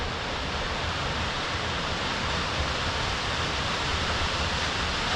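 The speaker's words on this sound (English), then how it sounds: "This is South Falls. This is one of 10 waterfalls out here." South Falls, one of ten waterfalls in the area, roars as a steady, dense wash of falling water that stays loud and unbroken throughout, with no voices.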